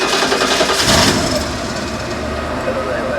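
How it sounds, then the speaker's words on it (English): A car engine cranks and catches inside the vehicle where a Workman Bandit CB radio is installed, then settles into a steady idle with broadband hiss and static over it; someone talks during the start. "Let me turn the car on real fast."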